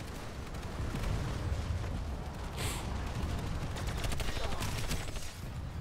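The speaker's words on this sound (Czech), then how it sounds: "To je střelba." Dense, continuous gunfire from a Terran soldier in a sci-fi video game, a rapid, sustained rattle of shots filling the whole stretch at a steady loudness.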